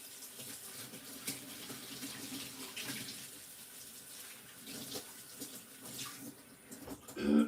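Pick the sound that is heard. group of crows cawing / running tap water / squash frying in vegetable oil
running tap water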